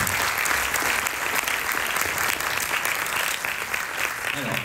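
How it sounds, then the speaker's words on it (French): Loud, dense applause rolls through a hall on a pitch day at an innovation event as a cofounder is welcomed onstage, continuous clapping from a large audience. "Merci, s'il vous plaît, de l'accueillir dans un tonnerre d'applaudissements"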